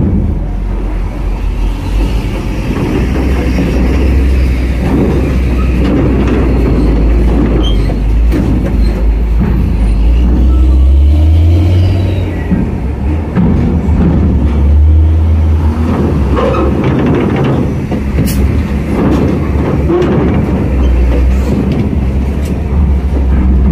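A heavy tanker truck at Merak port in Indonesia, its deep engine rumble steady and loud throughout, rising briefly in pitch midway as it moves, with no voices over it.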